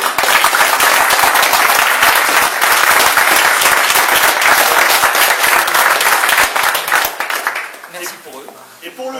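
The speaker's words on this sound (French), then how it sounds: "On peut les applaudir aussi." Audience applause at the closing of an airsoft charity day, loud and sustained with dense clapping that fades out near the end as a voice begins speaking.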